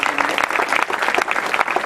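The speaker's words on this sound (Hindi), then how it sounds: "इनको दोबारा दाद दी जाए भरपूर तालियों से प्लीज एहसान अहमद के लिए" A student audience at a degree-college party programme in Pindi Bhattian breaks into full, steady applause: dense, continuous clapping from many hands, fairly close and loud, with a faint voice mixed in.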